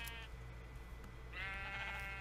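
Bleating sheep in the video game Minecraft: two wavering, nasal baas, one brief at the start and a longer one later, over a low steady background hum.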